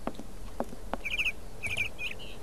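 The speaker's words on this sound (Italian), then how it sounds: "Oh, c'è un uccellino!" Small bird chirping in the video game Syberia: a couple of short bursts of quick, bright, high tweets over a soft, low ambient background, with a few faint clicks before.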